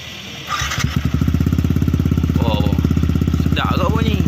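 A Yamaha R15 V3 motorcycle fitted with an Akrapovic full-system exhaust, silencer removed, starts after a brief pause and settles into a loud, rapid, evenly pulsing idle. Voices talk over the engine.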